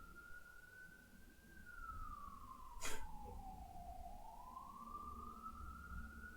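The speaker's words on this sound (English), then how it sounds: "There's the ambulance." An ambulance siren wails outside at a distance, its tone sliding slowly down and back up as it passes, faint but clear, with a brief bump of nearby noise partway through.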